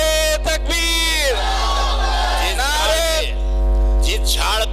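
A crowd of men at a Sunni religious gathering roars back a loud, long, ringing response to the Naara-e-Takbeer chant. The shouts come in several swelling waves over a steady hum.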